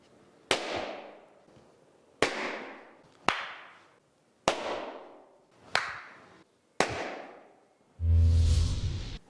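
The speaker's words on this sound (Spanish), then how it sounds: "globo para reventarlo y de esa manera generar un espectro amplio de frecuencias" Balloons burst one after another inside a room, six sharp loud pops at irregular intervals, each ringing briefly into the space, followed by a sustained burst of louder noise at the end.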